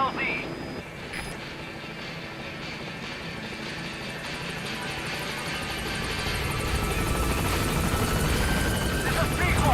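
A helicopter approaches a landing zone in Angola. The beating rotor wash rises gradually from a moderate drone to a louder, fuller roar as it draws nearer, with brief faint clicks near the start.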